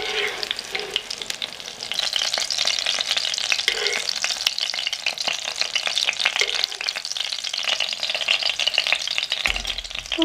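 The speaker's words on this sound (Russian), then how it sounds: "Вторую сторону также жарьте до такого состояния, а затем еще раз переверните." Steady, loud sizzling of battered chicken breast frying in a pan, with occasional crackles and pops throughout and no talking.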